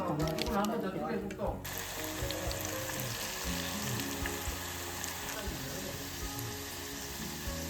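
Mugwort tempura sizzles steadily in hot frying oil, a loud, continuous crackling hiss that carries on after brief talk at the start.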